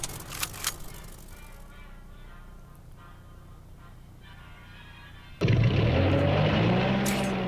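A propeller plane drones steadily overhead in the card game KARDS, then a loud roaring engine surge cuts in abruptly near the end.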